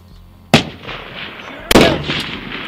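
Two sharp, loud shots from an Accuracy International long-range rifle at an outdoor long-range shooting match, about a second apart, each with a booming tail and echo. Faint murmuring and wind sit between the reports.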